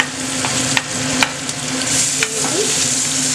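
A small grated onion fries in melted butter for a potato curry, giving a steady close sizzle with a few sharp taps of stirring against the pan.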